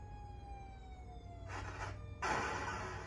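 Fire truck siren from the Atari arcade game Fire Truck, a faint electronic wailing tone sliding downward, followed by two bursts of harsh noise, the second louder and longer.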